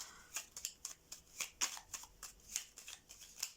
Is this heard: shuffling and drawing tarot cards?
yes